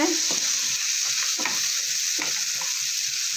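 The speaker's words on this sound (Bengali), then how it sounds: "বন্ধুরা মশলাগুলো আমার কষানো হয়ে গেছে" Spices frying in a pan for a Bengali cauliflower and egg curry, a steady close sizzle with a few soft stirring scrapes.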